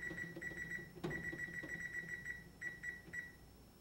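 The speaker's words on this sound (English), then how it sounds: "I'm just going to set my timer for 30 minutes" A kitchen timer, set while making carrot cake, beeps in quick repeated clusters of high electronic tones, close and clear, with a louder clatter partway through.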